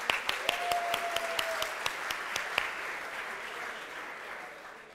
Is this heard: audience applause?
yes